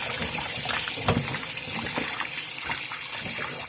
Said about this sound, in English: I'm going to rinse it off first with clear water.